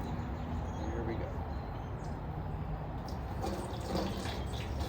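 Sealer liquid sloshing inside a 1967 Lincoln gas tank as it is rotated, a steady low watery rumble and swish, fairly faint and continuous.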